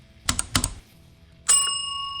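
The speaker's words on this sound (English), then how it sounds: "and ring the notification bell." A few quick keyboard-like clicks are followed by a single bright bell ding that rings out and decays over a second.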